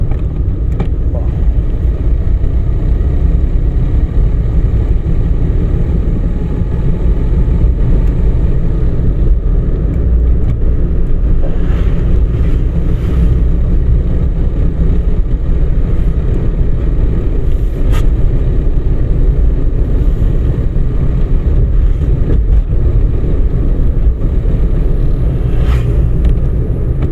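Car engine during a driving lesson, accelerating through the gears up to fifth: a continuous loud low rumble from inside the moving car, steady throughout, with faint cabin clicks now and then.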